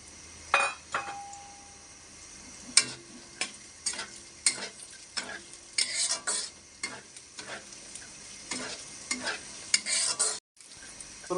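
Peeled native garlic fries lightly in hot oil in a home kitchen, with a steady sizzle broken by repeated sharp stirring scrapes and clinks of a utensil against the pan, close and fairly quiet.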